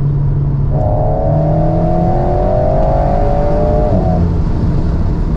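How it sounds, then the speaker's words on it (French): A rear-mounted sports car engine drones steadily with a dual-clutch gearbox, rising in pitch as it revs through a gear, loud and close with a resonant tone. "on entend vraiment la résonance avec le moteur juste à l'arrière"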